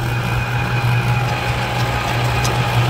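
A tractor engine runs close by with a steady, loud idling rumble and low mechanical drone, continuous and unbroken, with no speech over it.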